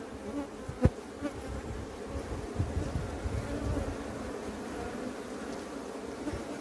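Honeybees buzzing around an open hive during beekeeping work, a steady close drone with a few brief louder knocks, no talking.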